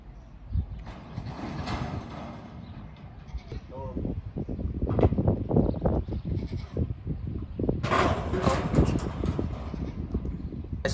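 Young Highland cattle bleat and call repeatedly out in a farm field, close and fairly loud, with wind and people's voices mixed in as the calves are guided toward a gate.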